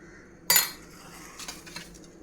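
A spoon clinks sharply against a dish once, then scrapes and taps more softly several times while the food is mixed, close and clear with no talking.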